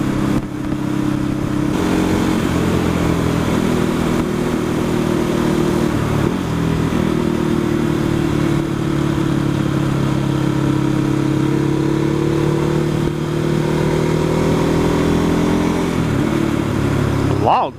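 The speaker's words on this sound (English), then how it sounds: "it's a brand new motorcycle" A new Ducati Hypermotard motorcycle engine drones steadily throughout while riding, with slight pitch shifts as it speeds up and eases off, and a few faint voices.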